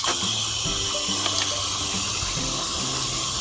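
A hose nozzle on its shower setting sprays water to rinse a grill, a continuous loud hissing splash with a steady running-water rush throughout, close by and without speech.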